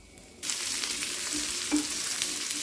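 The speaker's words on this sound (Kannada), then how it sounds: "ಅದಕ್ಕೆ ಒಂದು ಎರಡು ಈರುಳ್ಳಿನ ಕಟ್ ಮಾಡಿ ಹಾಕಿದ್ದೆ ಸ್ವಲ್ಪ ಎಣ್ಣೆ ಹಾಕಿ ಇದನ್ನು ಸ್ವಲ್ಪ ಸ್ವಲ್ಪ ಕೆಂಪಾಗೋ ತನಕ ಫ್ರೈ ಮಾಡ್ಕೊಳ್ತೀನಿ" A couple of cut onions fry in a little oil in a pot for a country chicken curry. A steady, close sizzle starts suddenly and crackles on evenly, with a faint scrape of stirring.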